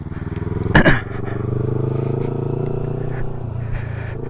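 A learner rider's motorcycle engine drones steadily up close with a pulsing, rising note as throttle is applied, a sharp clattering scrape near the start, and faint voices in the background.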